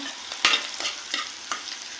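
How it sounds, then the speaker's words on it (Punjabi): Ginger and garlic roasting in a pan for tomato soup, a quiet sizzle with a few sharp scraping stirs of a spoon, close by and without talk. "ਐਦਾਂ ਆਪਾਂ ਇਹਨੂੰ ਭੁੰਨ ਲਾਂਗੇ ਤੇ ਜਿੱਦਾਂ ਆਪਾਂ ਅਦਰਕ ਤੇ ਲਸਣ ਐਦਾਂ ਹੀ ਪਾ ਰਹੇ ਆ"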